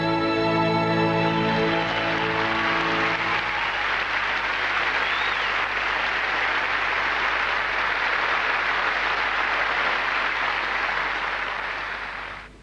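An audience at the Miss South Africa 1998 beauty pageant gives long, loud, steady applause that swells in as music ends and fills the room, then tapers off right at the close.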